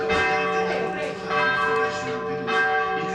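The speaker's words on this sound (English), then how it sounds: "Why the bell so close?" A church bell rings loud and very near in a town's central square in Italy, a sustained rich metallic tolling with swelling strokes and a long ringing decay, heard from right outside the church.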